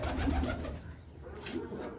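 Pigeons coo nearby in low, soft, repeated calls over a quiet background, with no talking.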